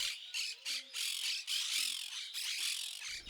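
Monk parakeets squawk at a camp in Argentina in warm evening light, harsh raspy calls overlapping in a loud, nearly continuous chatter close by.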